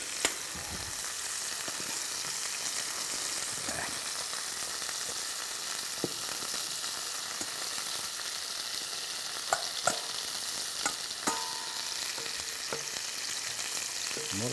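Vegetables fry in a cast iron pan on a wood-fired pot belly stove outdoors in a backyard, giving a steady close sizzle with occasional clicks and scrapes of stirring, with no talk.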